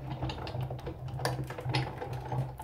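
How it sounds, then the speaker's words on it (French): Big Shot die-cutting machine cranking colored cardstock through its rollers, a quiet run of rapid clicking ratchet ticks with a low mechanical hum underneath, close by. "un seul passage dans la Big Shot suffit"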